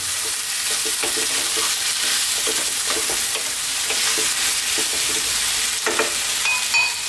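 Chickpeas fry on high heat in a pan, a loud, continuous sizzle under nearly constant stirring, with repeated spoon scrapes and clicks close at hand and no voices.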